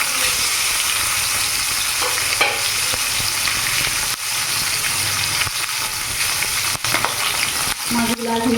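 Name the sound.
silver carp fish frying in hot oil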